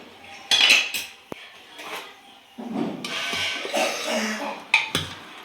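A pressure cooker of mutton is opened in a home kitchen: a burst of sharp metal clanks as the lid comes free, a lone click, then a longer stretch of scraping and clattering of the pot and utensils, all close and loud.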